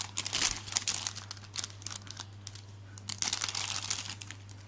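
Plastic wrapping crinkles and crackles in bursts as a final surprise package is torn open, loud close-up rustling with a steady low hum underneath.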